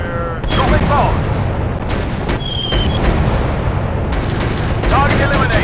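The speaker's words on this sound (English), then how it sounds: "Dropping bombs! Target up in flames!" Bombs bursting in the World War I flight combat game Warplanes WW1 Sky Aces, a dense run of heavy booms and blasts layered over constant engine and battle noise, with game voice callouts mixed in.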